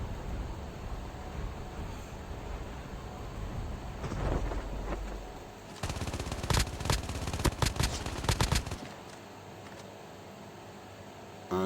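Gunfire in a battle royale video game: a quick burst of rapid automatic shots in the middle, set against steady background noise, with a short single report near the end.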